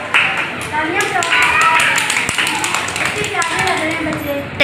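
Guests clapping at a mehndi party, quick irregular handclaps mixed with lively chatter and someone talking over them, fairly close and loud.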